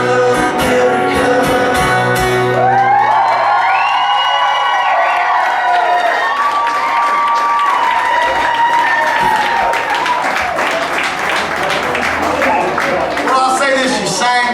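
A concert audience in St. Louis at a show claps, cheers and whoops loudly and steadily, with rhythmic clapping rising under a singing, shouting crowd.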